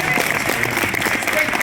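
Audience at a convention panel claps steadily, a dense burst of applause from a crowd, close and lively, with a voice briefly speaking over it.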